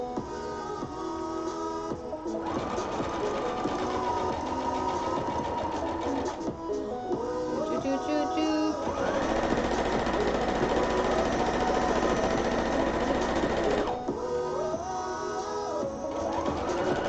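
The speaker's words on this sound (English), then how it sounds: "We're going to sew along the side where I put this line." A sewing machine runs in steady bursts as it stitches along a marked line on the side of a bag, with a fast, even mechanical chatter that pauses briefly and restarts several times, loud and close with no voices.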